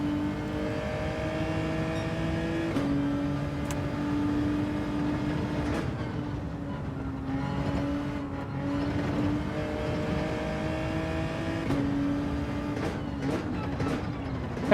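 Race car engine in Gran Turismo 7 during a time-trial run, a steady sustained drone with shifting pitch as the car accelerates and changes gear, continuous and fairly loud throughout.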